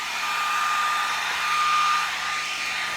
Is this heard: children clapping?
no